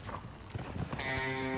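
A nine-year-old competition gelding's hooves clop a few times on arena footing at a young riders' show, fairly faint and irregular before a steady tonal hum takes over.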